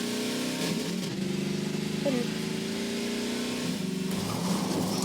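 Jeep driving in Garry's Mod, a steady droning engine with a rising rev partway through, continuous and fairly loud, with someone talking over it.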